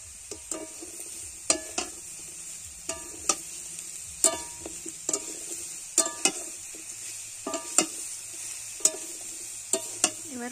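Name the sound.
fish and taro curry being stir-fried in pan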